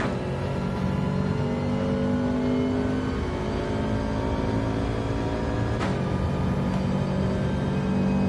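A race car engine in Gran Turismo 7 drones steadily and loud throughout, with a continuous revving whine and a brief gear-shift dip near the end, no voices present.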